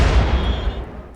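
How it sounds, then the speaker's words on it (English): A mortar shell fires in the video game RimWorld, a single loud, deep boom that decays over about a second. "And I just upped the number of mortars we're going to keep on deck."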